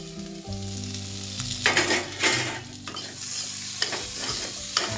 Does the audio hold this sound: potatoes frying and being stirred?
yes